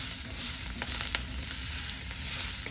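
Ground venison fries in a pan with a steady, crackling sizzle, dense and close, broken by occasional sharper pops.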